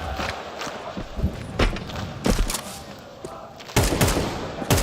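AK rifle fire in a Counter-Strike 2 match at a tournament, short bursts of loud, sharp shots in irregular clusters, mixed with game effects and a caster's voice in the background.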